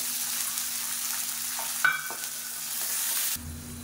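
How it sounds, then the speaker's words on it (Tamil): Garlic cloves frying in a pan, a continuous close hiss with a brief metallic clink and stir partway through. No one speaks. "பூண்டு நல்லா வதங்கிட்டு இருக்கு"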